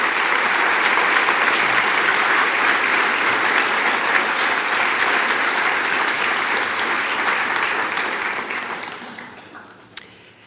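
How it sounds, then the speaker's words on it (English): After an inclusion talk by Sristi Kc, a hall audience gives a long, loud, steady round of applause that fades out near the end, leaving a few last claps. "Great round of applause indeed"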